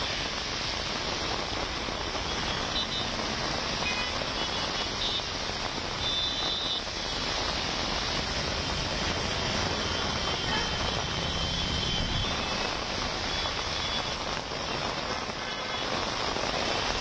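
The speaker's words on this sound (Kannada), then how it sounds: "ಮೈಸೂರು ಬ್ಯಾಂಕ್ ಸರ್ಕಲ್ ಸುತ್ತಮುತ್ತ ಜೋರು ಮಳೆಯಾಗಿದೆ" Heavy rain pours over central Bengaluru streets around Mysore Bank Circle, a dense, constant hiss of drops on surfaces with no pauses, loud and unbroken.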